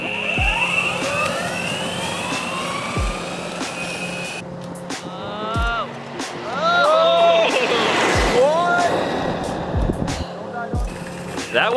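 Two electric skateboards, a Meepo and a belt-driven Boosted, race in a drag run. Their motors give rising whines that climb in pitch again and again, loud and close, over steady wind and road rumble.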